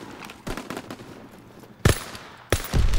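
Mounted machine gun in Call of Duty WW2, scattered single shots and a short burst early, then two loud, sharp blasts with ringing tails, close and forceful.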